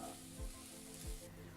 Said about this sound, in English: Stir everything together until the rice is piping hot.